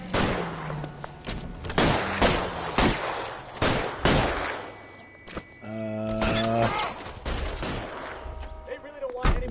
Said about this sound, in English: Now we're getting shot at.